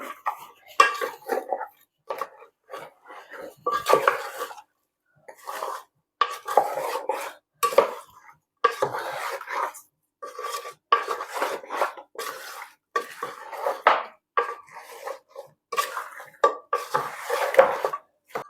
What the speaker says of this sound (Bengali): তারপরে তেল, তো কি বালা করে একটা লাড়া দিলাই